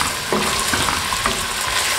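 Meat frying and browning in a pot, a loud, dense sizzle with a few stirring knocks and scrapes against the pot, close up and with no talking.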